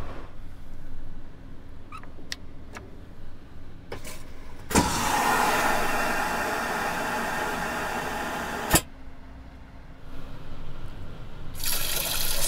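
Water gushing from a high-pressure sink tap aboard an Amtrak long-distance train, a loud steady rushing spray lasting a few seconds between brief clicks, with quieter train-cabin rumble before and after.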